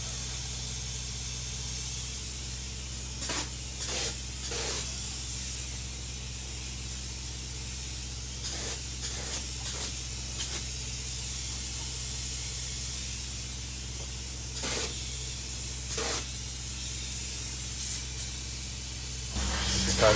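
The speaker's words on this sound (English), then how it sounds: "Spray foam should be installed to fully fill the void back here behind the paneling." Spray foam insulation hisses steadily from a spray gun inside a van, a continuous close-up spray with a few short breaks and bursts, without speech.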